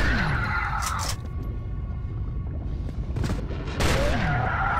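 Shotgun fire in a Judge Dredd video game: a few heavy, booming blasts spaced a couple of seconds apart over continuous loud, rumbling game noise.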